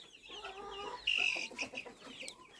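Young chickens on a farm cluck and peep in a short burst, with one sharp louder call in the middle, fairly close and with no talk.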